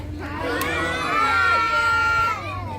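A theatre audience of young children shouts together in unison, a sustained loud chorus of high voices that swells and holds for a couple of seconds before fading.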